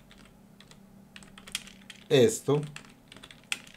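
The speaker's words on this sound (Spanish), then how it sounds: "Entonces vamos a escribirlo con el teclado." Someone types on a computer keyboard in quick, scattered clicks with a louder burst of keystrokes in the middle, while a person speaks briefly.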